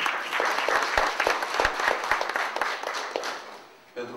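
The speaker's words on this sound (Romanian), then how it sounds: "În aplauze, Florin Cotos." Audience applause at a local Romanian event in Rădăuți, a crowd clapping steadily with some sharp individual claps standing out, tapering off near the end before a short closing sound.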